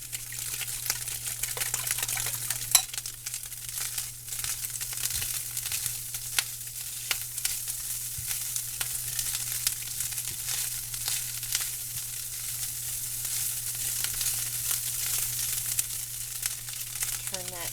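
Eggs for ham and egg wraps sizzle steadily in a frying pan, a dense, even crackle with scattered sharper pops running throughout, over a faint low hum and with no talking.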